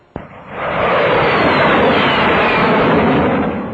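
Jet aircraft engine roaring loud and close, surging in sharply and holding a steady, broad, screaming rush alone for several seconds before easing slightly at the end.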